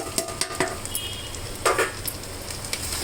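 Potatoes added to hot oil with fried yogurt in a pan for a potato gravy curry and stirred: a steady close sizzle broken by several scraping stirs of a spoon against the pan, with no voices.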